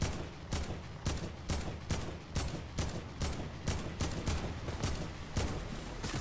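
Rapid bursts of gunfire in Fortnite, fired at a care package dropping from the sky, crack out in a steady rhythm of about a dozen evenly spaced shots that stay loud and close throughout.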